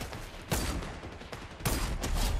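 Sniper rifle shots in Fortnite during a trio match: two sharp, loud cracks about a second apart, each with a rolling tail, over continuous game background noise.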